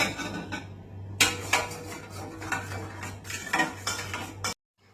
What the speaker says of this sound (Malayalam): ഇനി നമുക്ക് നന്നായിട്ട് മിക്സ് ചെയ്യാം